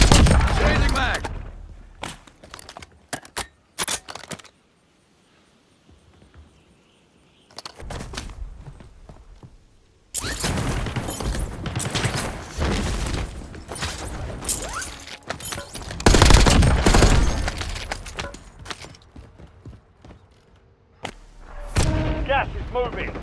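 Gunfire and artillery blasts from a shooter video game, loud bursts of rapid shots and booming impacts in clustered volleys separated by quiet gaps, with a voice speaking between them.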